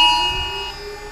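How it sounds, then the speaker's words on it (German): A civil defense siren during Germany's nationwide warning-day test drones on, holding a sustained pitch that slowly sags, loud and unbroken for a brief moment. "Sirene geht auch."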